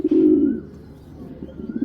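A racer pigeon gives a close, clear low coo, one strong throaty call followed by softer murmuring repeats, with no talking.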